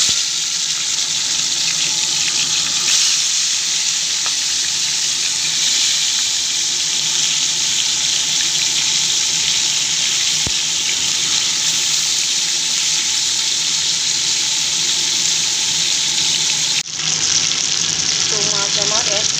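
Tilapia pieces fry in mustard oil in a pan, producing a loud, steady, watery sizzle that holds for most of the span before a brief drop and a shift near the end.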